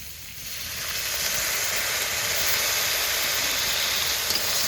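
A loud, steady sizzle and steamy hiss fills the air as water hits water lily stems frying in a hot pan, holding constant throughout with no talking.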